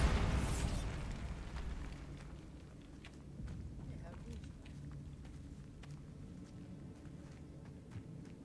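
A Bombarda exploding spell from the Hogwarts Legacy game bursts loudly at the start, then falls into a lower rumbling tail scattered with small pops and crackles.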